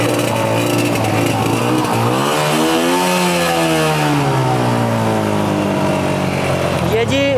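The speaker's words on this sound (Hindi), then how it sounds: "ये आप चेक कर लें, आपको स्टार्ट करके दिखाता हूँ।" A used Honda motorcycle started and revved, its engine rising and falling in pitch through a steady close running drone while people talk nearby.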